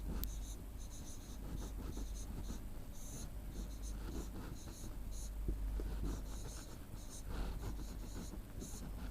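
A pen or chalk writes out the working of a class 4 arithmetic problem, steady scratchy strokes running continuously against a loud constant background hiss, close but partly masked.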